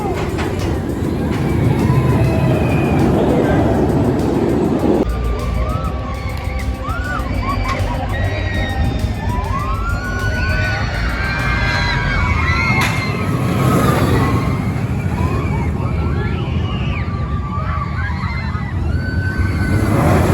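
Riding the Valravn dive coaster at Cedar Point brings a continuous loud roar of wind and track rumble for about twenty seconds, with riders shouting and talking throughout.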